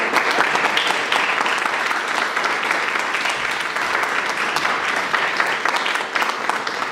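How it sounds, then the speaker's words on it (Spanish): An audience claps after a talk by licensed speakers at a presentation, a steady, even burst of applause that holds for several seconds and stays moderately loud throughout. "Un aplauso"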